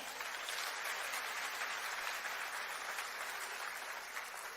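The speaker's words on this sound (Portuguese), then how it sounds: "Você pode dar um aplauso ao Senhor?" A church congregation claps together in sustained, even applause, a soft broadband wash of many hands heard from a distance with no talking over it.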